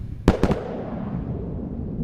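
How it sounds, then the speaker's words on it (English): Sonic booms from a returning SpaceX Falcon 9 first-stage booster coming back to Cape Canaveral, a rapid cluster of three sharp, loud thuds that roll off into a rumbling tail. "There's the sonic booms."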